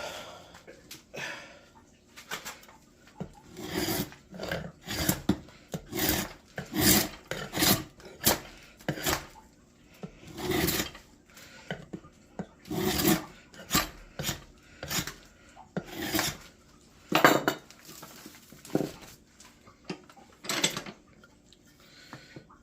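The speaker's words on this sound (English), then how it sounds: "Let's use the draw knife now." A draw knife shaves wood in repeated rasping pulls, each stroke a loud scraping burst, close up, in an uneven but steady rhythm over about twenty seconds.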